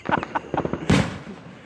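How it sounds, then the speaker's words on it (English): Fourth of July fireworks show in Booneville, 2020: several quick crackling pops followed by one loud booming burst that rings out and fades, heard without speech. "you don't like our generic fireworks? Here you go."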